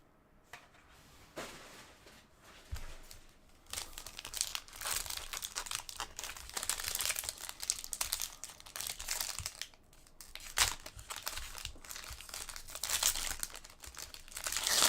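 A pack of trading cards being torn open, its foil wrapper crinkling and crackling in bursts of sharp rustles, close up and fairly quiet, with no talking.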